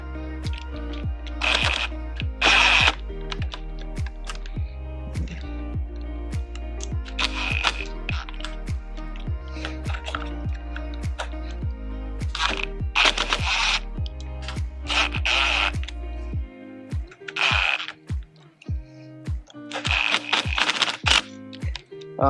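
Clutch lever clamp bolts are tightened by hand with a ratchet wrench on a Honda Grom's 7/8-inch handlebars, giving repeated close clicking bursts separated by short pauses, ending in a quicker run of sharp clicks.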